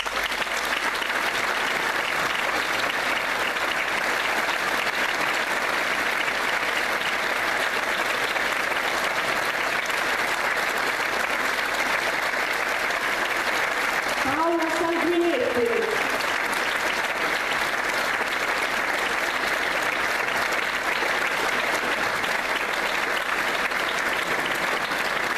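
Audience applause fills a concert hall at a 2016 Bled performance, steady and dense throughout with a brief sung or voiced note partway.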